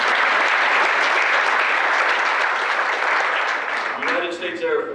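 A Veterans Day ceremony crowd in Fort Walton Beach, Florida applauds Coast Guard veterans with loud, sustained clapping that fades toward the end as a voice begins to speak.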